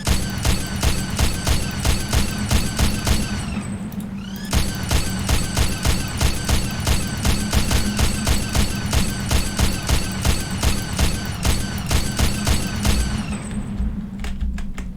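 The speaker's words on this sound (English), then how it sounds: "the chain gun, for one thing, well, you can tap fire it. Like proper tap fire this thing." Chain gun fire in the video game Doom comes in rapid, loud, sharp bursts: a sustained rattling stream that breaks briefly once and then continues, with no talk.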